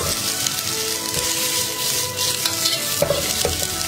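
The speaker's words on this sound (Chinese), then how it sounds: "快速翻炒几下" Cumin lamb and cilantro stems stir-fried in a wok, a steady loud sizzle with repeated scraping tosses of the spatula, close and continuous with no voices.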